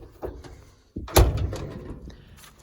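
The heavy door of an old 1971 Ford F600 truck swings and shuts with a solid metallic thunk, a single close slam after a brief creak.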